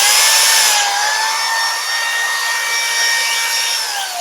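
A spinning wooden dowel buffed with 360-grit sandpaper, a loud, close, steady whine with a high pitch that dips slightly and then holds, over a soft abrasive hiss.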